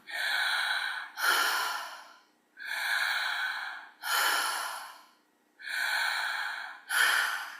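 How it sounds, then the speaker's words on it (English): Continuous open-mouth breathing drawn from the throat with a wide mouth, six long breaths alternating inhale and exhale in a steady rhythm, close and fairly loud with no talking. "And it's continuous breathing."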